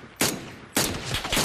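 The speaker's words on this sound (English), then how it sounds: "Shooting." Loud, close gunfire in PUBG played on Xbox One X: a single sharp shot, a brief pause, then a quick cluster of shots.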